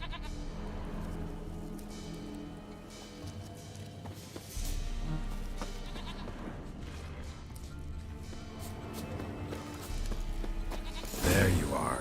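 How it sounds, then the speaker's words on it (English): Goat in The Witcher 3 bleating amid game ambience and background music, with a brief crash or thud near the end. "Here, goat."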